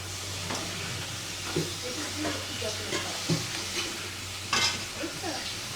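A vegetable curry sizzles steadily in a pan on the stove, with a ladle scraping and stirring it in repeated strokes and a few louder clanks of metal against the pan.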